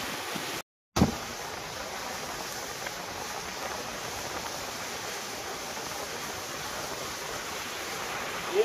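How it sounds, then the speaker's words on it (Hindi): The Beas river running high and turbulent, a steady broadband rush of flowing water heard continuously, with one brief dropout near the start and no talking. "ये है अपनी ब्यास नदी का पानी यहाँ से भी आता है"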